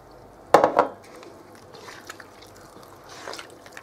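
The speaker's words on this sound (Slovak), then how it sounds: "Túto zmes si normálne iba takto lyžicou rozmiešame." A spoon clinks and scrapes against a bowl while poppy seed cake batter is mixed by hand, a short close cluster of taps followed by faint, quieter stirring sounds.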